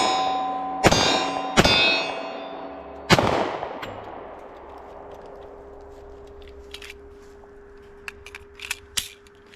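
Three sharp gunshots strike homemade steel target rings, each leaving a bright metallic ring that decays slowly, the last note lingering; a few faint light clicks and taps follow, with no talking.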